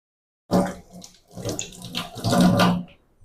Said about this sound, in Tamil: நான் அலசி எடுத்துட்டு போடுறேன்.